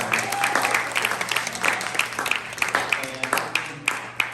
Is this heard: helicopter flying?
no